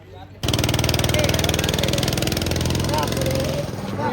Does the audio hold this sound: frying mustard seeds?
no